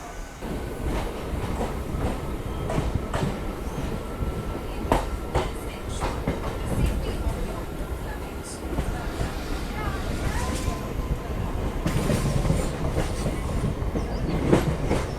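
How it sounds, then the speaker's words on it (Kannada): The SSS Hubballi MEMU Express pulls out of Ranebennur station with a close, steady rolling rumble and clacks of wheels over rail joints, along with faint squeals, while people talk in the background. "ನಮ್ಮ ಟ್ರೈನ್ ಹೊರಡೋ ಟೈಮ್ ಬಂದೇ ಬಿಡ್ತು"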